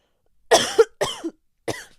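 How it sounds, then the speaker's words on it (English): A person coughs three times in a short burst, two close harsh coughs followed by a brief pause and a third, near and loud, with no talk; the cougher has a dry throat. "Sorry, I need to cough again."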